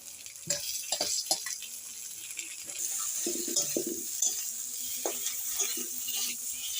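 Boiled, cut potatoes fry in a pan with spices while a spatula stirs them, giving a steady close sizzle broken by clinks and scrapes against the pan, with no talking.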